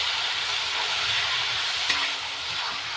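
Meat hitting a hot pan for a Bengali kosha mangsho, giving a loud, constant broad sizzle with the faint scrape of stirring and no voices.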